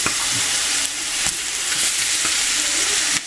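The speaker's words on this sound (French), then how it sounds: "C'est le moment de rajouter notre viande dans nos oignons." Lamb neck pieces and other lamb chunks sizzle loudly in a pot of onions for a Tunisian couscous, a steady dense frying hiss broken by a few soft stirring knocks, with no talking.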